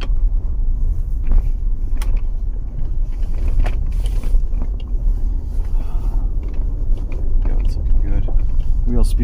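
A 2015 Nissan Pathfinder with a 3.5 L engine rolls slowly over bumpy shop ground, giving a continuous low cabin rumble with scattered creaks, knocks and rattles from the suspension and interior.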